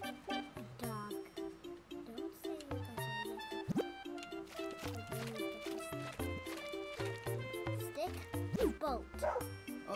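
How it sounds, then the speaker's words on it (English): Dog barking in the dog photography game Pupperazzi, a few yips heard under steady game music with people talking over it. "Oh, there is a doggo."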